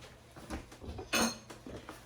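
A lid clanks onto a pot of Thai red curry with vegetables, giving a few light metallic knocks and one sharper clink, close and quiet with no talk.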